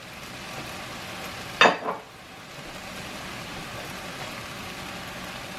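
Spinach sautéing in a pan with a splash of water, a steady soft sizzle throughout, broken by a brief loud hiss and clatter as more water or greens go in, then settling back to a gentle fry.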